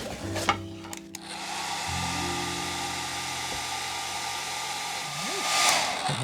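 A hair dryer drying yellow decorative paint dots on a spring door hanging craft, a steady close whirring blow that starts after a few handling knocks and runs continuously to the end.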